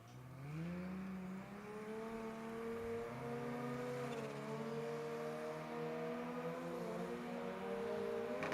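Sports compact drag racing car at the Adelaide Jamboree 2023 makes a full pass down the strip, engine heard from a distance climbing in pitch through gear changes, steady and moderately loud.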